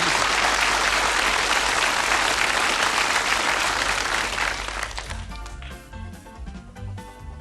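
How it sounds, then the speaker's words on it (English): Studio audience on a British darts game show applauds loudly for a darts player, dense steady clapping that fades after about five seconds into quieter background music. "ladies and gentlemen, a warm round of applause for Jocky Wilson and his trophy player."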